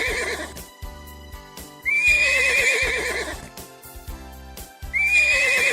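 A horse neighs loudly and close by in two whinnies separated by a short pause, with some faint hoof clip-clops between them.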